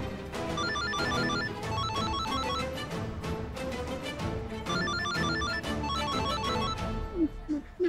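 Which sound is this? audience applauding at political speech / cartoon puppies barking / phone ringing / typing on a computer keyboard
phone ringing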